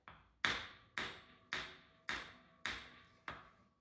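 A hammer handle taps a rear shock part from a Gen 2 Raptor into place: seven sharp, ringing taps at a steady, even pace, close and fairly quiet, each decaying briefly.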